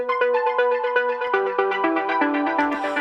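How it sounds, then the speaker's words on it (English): Deep progressive house synth lead group with sidechain compression, playing a steady rhythmic melodic pattern of pulsing, ducking notes, loud and alone with a brighter swell near the end. "So the leads are down here, and they sound like this."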